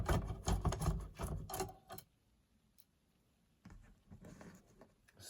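Screws come out of a vintage JVC RC-250LB radio cassette player in a burst of close clicking, ticking and plastic rattling, then a quiet pause before more light handling clatter.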